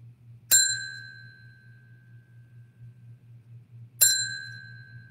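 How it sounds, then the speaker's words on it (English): A small bell on a shelf is struck twice about three and a half seconds apart, each a bright, clear ding with a long ringing decay over a low steady hum, nothing else heard. "This little bell is on the shelf behind me"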